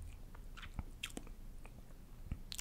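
Close, quiet chewing of braised pig's feet (jokbal), with soft wet bites and a few sharper crunchy clicks spread unevenly over a couple of seconds, no talking.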